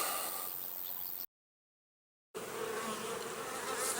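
Honey bees buzz inside an opened hive at a small beginner's apiary during an August autumn inspection, a steady dense hum broken by a full second of silence midway, then resuming close and even.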